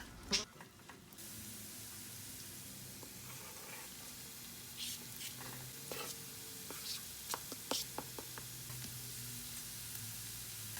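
Lean minced meat with green and red peppers sizzles steadily in a hot pan, with scattered scraping and clinking of a utensil stirring, no talking.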